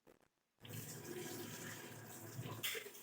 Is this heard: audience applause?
no